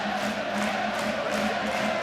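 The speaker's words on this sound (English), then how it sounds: "And the crowd louder than we've heard them for a long time." Rugby league stadium crowd at a Super League match between Leigh and Leeds, a loud sustained roar of thousands of fans that holds steady throughout without a break.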